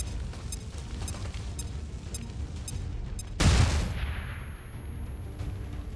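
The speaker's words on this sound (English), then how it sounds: "Should definitely use a flashbang on this turn." A flashbang grenade detonates in XCOM 2 with one sharp, loud bang partway through, followed by a ringing tail and fading rumble over a quiet background.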